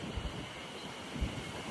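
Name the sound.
strong wind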